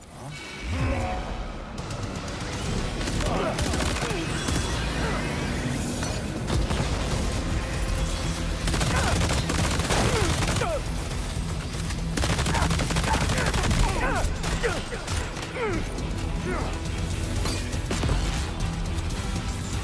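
Sustained game gunfire from Death Stranding 2, dense bursts of shots and crashes running loud and continuous through the whole stretch, with a voice faintly present at times.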